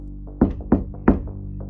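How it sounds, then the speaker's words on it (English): Three sharp knocks land on a bedroom door, evenly spaced about a third of a second apart, over a low steady drone. "Then someone knocked 3 times."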